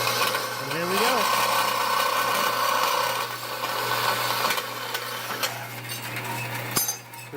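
A bandsaw cutting metal stock for a custom hot rod door handle, a steady grinding rasp over a constant machine hum with a brief rising whine early on, close and loud, no talking.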